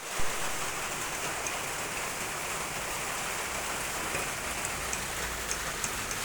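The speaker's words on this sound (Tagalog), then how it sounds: "Kaliligo lang no, wala pa rin tigil yung ulan mga pre." Heavy rain falls steadily, a constant broad hiss with scattered close drips and patters throughout, no voices.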